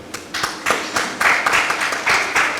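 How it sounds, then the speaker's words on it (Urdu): An audience claps in short, uneven bursts at a Jashn-e-Urdu literary stage event, a thin, close patter of hands that rises and falls several times. "آپ کی تالیاں بہت کم آ رہی ہیں"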